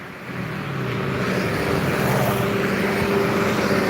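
A bus on the Jalan Lintas Timur highway near Palembang, an executive coach heading for Java, rolls past with a steady, loud engine and tyre roar that builds slightly and holds throughout, no talking.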